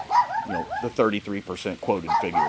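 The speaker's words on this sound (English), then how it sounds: "Sorry about the dog in the background again." A little poodle yips and barks in quick bursts somewhere in the background, mixed under a man's steady close speech throughout.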